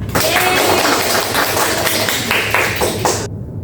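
Children in a grade 4 primary school classroom clap together in a burst of brisk, fairly loud applause, with voices mixed in, before it cuts off abruptly.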